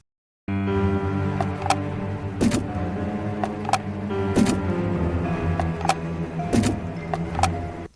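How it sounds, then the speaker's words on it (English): In the video game Art of Murder: Hunt for the Puppeteer, a wooden plank is picked up and set down, giving a series of soft knocks and clatters over a low steady background hum. "Listen to this audio of me picking up and putting down this wooden plank."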